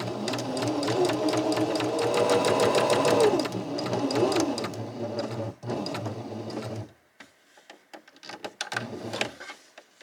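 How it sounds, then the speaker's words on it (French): A domestic sewing machine runs a steady straight stitch close along the edge of a garment, its fast regular needle rhythm loud and near for several seconds, then stopping with short bursts of handling and faint movement afterward. "On descend l'aiguille et on vient coudre à 2 mm ou 3 mm du bord tout le long."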